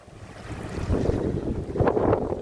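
Strong wind buffets the microphone in rough, rumbling gusts beside a river in light rain, steady and close, with no voices.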